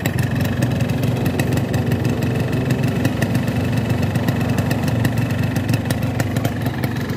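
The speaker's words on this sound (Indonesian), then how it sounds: "Dan untuk suara mesin sih masih terbilang normal teman-teman." Two-stroke engine idling steadily with low-smoke oil, a continuous close buzzing putter with rapid regular firing pulses, no voices.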